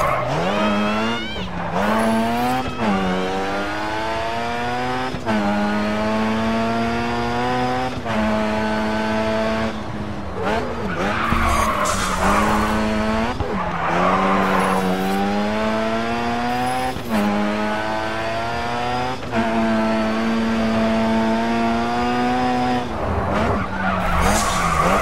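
A car drifting in the racing video game Grid 2, with a loud engine that revs up and drops through gear changes and long stretches of tire skid and squeal, continuous and close throughout.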